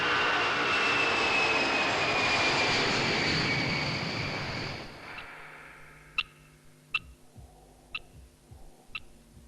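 Aircraft engine in flight, a loud continuous roar and whine for about five seconds that then fades, followed by sharp clicks and knocks inside a quieter cabin.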